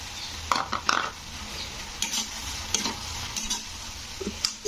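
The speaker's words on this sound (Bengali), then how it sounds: "তো ঘিটা দিয়ে একটু নাড়াচাড়া করে দিতে হবে।" Semiya upma with a spoonful of ghee being stirred in a pan, soft scraping strokes and occasional clinks of a spoon over a low frying sizzle, close up with no talking.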